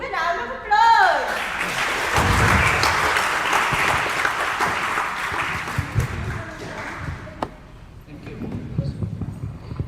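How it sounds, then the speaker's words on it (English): A funeral gathering breaks into applause, a full wash of clapping hands that swells early and holds for several seconds before thinning out, with a voice speaking briefly at the start. "Give a round of applause"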